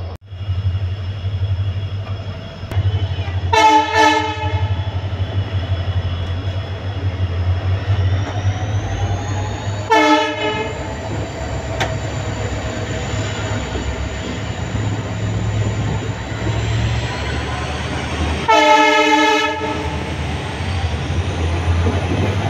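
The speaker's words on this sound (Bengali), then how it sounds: "WDG লোকোমোটিভ আর রেলের যে হর্ন হংকিংয়ের আওয়াজ সেটা শোনো একবার" A WDG diesel locomotive hauling the Siliguri Intercity Express runs with a steady low rumble, and its horn sounds three times, at roughly 4, 10 and 19 seconds, loud and close.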